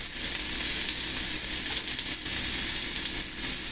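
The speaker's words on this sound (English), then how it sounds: "So I'm going to put the pork chops in." Pork chops sizzle steadily in a pan on a stovetop, a loud, dense and continuous frying hiss with no pauses and no voices over it.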